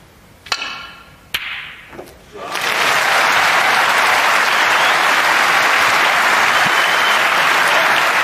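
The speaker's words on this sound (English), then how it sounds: "A generous round of applause" Snooker audience applause breaking out after a couple of sharp knocks and thuds, then a loud, sustained, even clapping that fills the rest of the moment.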